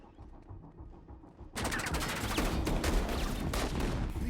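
Gunfire erupts in a bank robbery film scene, loud dense bursts of rapid shots after a quieter opening, sustained like a fusillade.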